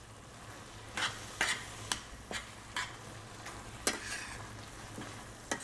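Wilted cabbage with a little water gets stirred in a sizzling pan for cabbage risotto: a soft, continuous fry hiss under about a dozen sharp spoon scrapes in an uneven rhythm, close and fairly quiet.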